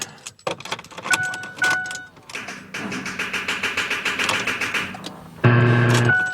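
A car with a new battery cranking but failing to start: keys jangle and clunk first, then a rapid rhythmic starter whir churns for a few seconds, ending in a loud sustained tone or chime, close by.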